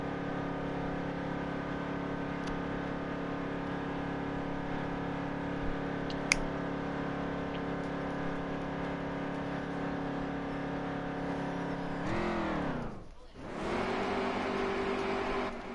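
Race cars lapping Homestead in a racing video game, a steady engine drone holding throughout with a brief dip and pitch sweep near the end as a car passes, no talking over it.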